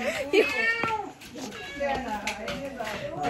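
A cat meows a few times, close by, at Pilikula zoo in Mangalore, with a voice and other chatter overlapping in the background.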